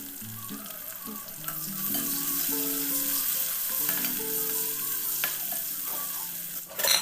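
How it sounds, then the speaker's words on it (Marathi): Sliced onion sautéing in a pan over a medium gas flame with cumin and curry leaves, a soft steady sizzle with occasional stirring scrapes, no voices. "मीडियम गॅस फ्लेमवर 2-3 मिनिट कांदा छान ब्राऊन होईपर्यंत परतून घेतला आहे"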